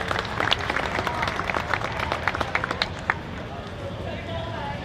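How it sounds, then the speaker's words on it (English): An outdoor crowd at a classic-car concours d'elegance claps for a car owner, scattered sharp claps standing out over a crowd murmur before fading after a few seconds, with talk running underneath. "Big round of applause for Lynn James from Tracy"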